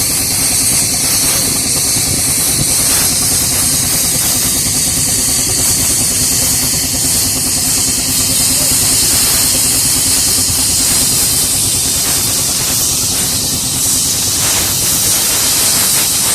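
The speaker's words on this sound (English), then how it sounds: "a typical agricultural engine, which would have been used probably for driving saw bench, or more likely possibly the thrashing machine" Agricultural steam traction engine, of the kind used for driving a saw bench or threshing machine, at a Cornish steam rally, giving off a loud continuous steam hiss with a low mechanical rumble beneath, steady and close throughout.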